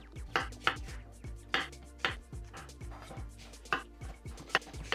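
A knife chops fresh spinach on a board for a no-oil, no-meat Nigerian stew. The cuts are sharp, close and fairly quiet, about a dozen uneven strokes with no talking.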